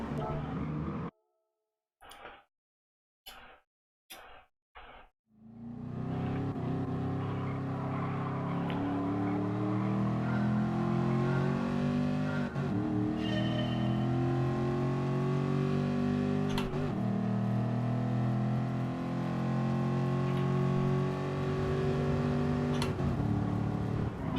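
Race cars in Gran Turismo Sport on the Nürburgring GP circuit during a Clubman Cup amateur event: a few short bursts and then a steady, loud engine drone with rising and falling gear pitches that carries through to the end.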